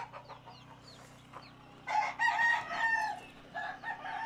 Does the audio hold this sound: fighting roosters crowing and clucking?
yes